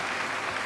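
A theatre audience applauds at a curtain call in Genshin Impact, steady dense clapping from a crowd, continuous and moderately loud for a brief moment.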